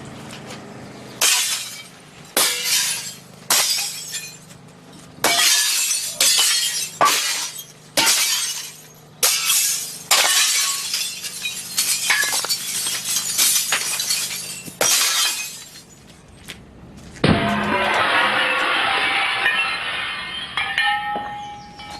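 Chihuly glass sculptures being smashed, a rapid series of loud, sharp shattering crashes with tinkling debris, followed by a longer, denser burst of breaking glass and clattering shards.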